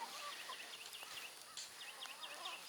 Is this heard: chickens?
yes